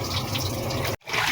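Water runs from a household faucet with a steady splashing rush. It cuts off abruptly for a moment, then resumes just as strongly.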